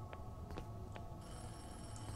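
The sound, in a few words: telephone ringing in a video game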